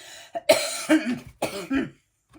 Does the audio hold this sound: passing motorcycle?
no